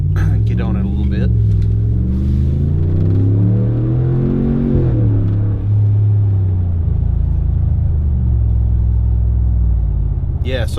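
A 2019 Ram Rebel 1500 pickup fitted with a Carven cat-back exhaust rumbles loudly and steadily, its deep exhaust note rising and shifting as it accelerates for several seconds, then settling into a lower drone.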